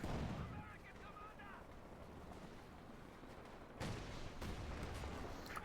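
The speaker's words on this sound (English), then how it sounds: "endless artillery" An endless artillery barrage in Company of Heroes 2, OKW against USF, rumbles as a dense wash of distant booms and crackling gunfire. It swells louder near the end.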